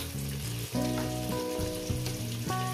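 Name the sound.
potatoes frying in a pan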